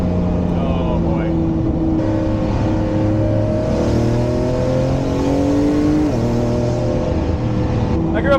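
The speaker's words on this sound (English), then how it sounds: "There's a motorcycle and another car coming up." Engines of a motorcycle and a car rise in pitch as they rev and approach, layered droning tones under occasional talk.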